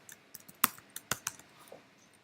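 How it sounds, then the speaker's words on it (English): Scattered keystrokes of code being typed on a computer keyboard, a few sharp clicks with one or two louder strikes, close and quiet, no talking. "You will see I keep typing the same code again."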